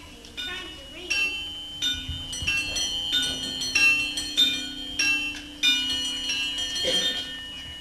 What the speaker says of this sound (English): The chimes are ringing.